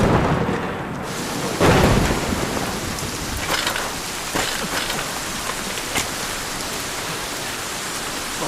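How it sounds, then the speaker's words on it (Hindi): Heavy rain pouring down in a thunderstorm at a deserted spot, a loud dense hiss of drops with a deep rumbling thunder roll near the start, steady throughout with no voices. "बहुत तेज बारिश हो रही है।"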